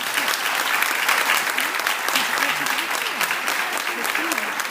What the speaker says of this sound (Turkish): önce bir kocaman alkış istiyorum